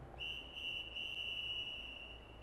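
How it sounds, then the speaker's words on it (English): One drawn-out whistle blast, a single steady shrill tone held for about two seconds over a quiet background. "the drawn-out whistle blast was deafening"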